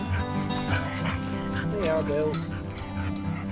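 Two pet dogs, Spot and Missy, bark and yip briefly on a countryside walk from Buxton to Ashford in the Water, close by and mixed under someone talking to them.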